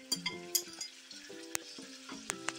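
Frozen tomatoes go into a pan where chicken is frying with ginger-garlic paste for Bombay biryani, giving a steady close sizzle with a few sharp clinks of a utensil against the pan. Tonal background sounds run underneath.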